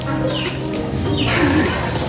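Soft, low pigeon cooing repeats in throaty murmurs from pigeons with young chicks, with a steady background hum and a faint bird call mixed in.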